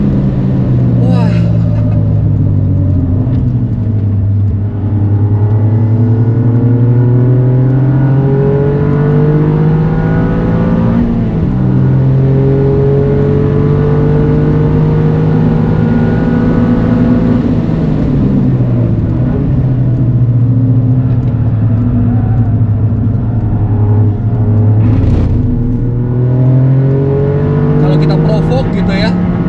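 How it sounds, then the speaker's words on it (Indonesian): A car engine revs continuously and loudly on the Mandalika race track during a track day, rising and falling in pitch as the car accelerates through the gears, with people talking over the engine. "Suhu mesin itu nggak naik sama sekali ya, walaupun digeber."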